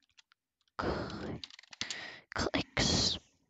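Bursts of computer keyboard typing come in short clustered runs with pauses between them, close and clear, while building an admin panel in Roblox Studio.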